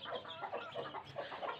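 Broody hens clucking in steady repeated bursts, several birds close by, with no voices.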